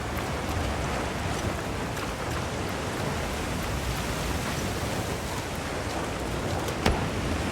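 Heavy rain pours down in the video game Monster Hunter: World, a dense, unbroken hiss, steady and loud throughout, with faint scattered patters on top.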